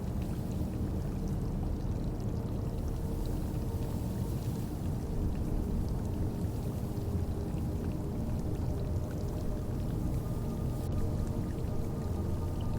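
A steady, continuous wash of water flows nearby, a dense broadband rushing that holds even throughout with no voices or other distinct sounds.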